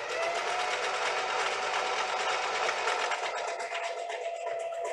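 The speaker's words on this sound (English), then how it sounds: "Let's get to sewing on this." A sewing machine stitches a garment at the armpit seam, a rapid steady whirring hum at close range that runs continuously and eases slightly toward the end.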